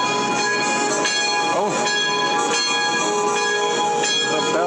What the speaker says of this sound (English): The bells are ringing for us.